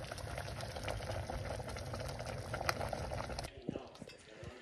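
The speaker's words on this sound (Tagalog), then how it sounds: "Wow, kuluan ng ating champurado." Champorado, a chocolate rice porridge, bubbles and boils in a pot with a dense burbling texture that cuts off abruptly near the end, leaving a few soft clicks.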